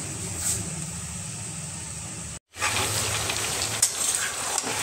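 Chicken fries in butter for butter chicken, giving a continuous close-up sizzle with a brief break in the middle and faint stirring scrapes.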